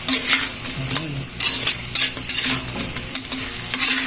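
Buffalo chicken wings stirred in a hot pan, a steady sizzle broken by repeated scraping and clattering stirring strokes that come close and loud.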